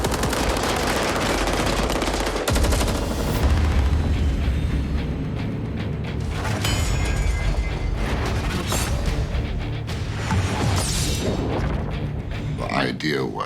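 Gunfire in Bloodshot film footage: dense, loud bursts of automatic rapid fire mixed with booming blasts over a sustained roar, a voice shouting over the action.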